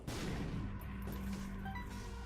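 A bomb blast in The Binding of Isaac Afterbirth+, one sharp booming explosion at the start that rumbles and decays over about two seconds.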